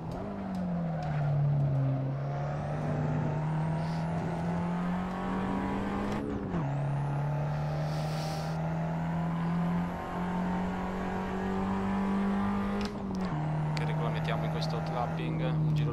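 An Abarth 500 esseesse laps the Franciacorta circuit in Assetto Corsa, its engine droning and rising through long pulls, dropping sharply at gear changes, with tire squeal through the corners.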